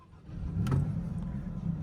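A Maserati MC20 sports car engine starts up with a low rumbling surge that swells quickly, then settles into a steady idle burble heard from close by.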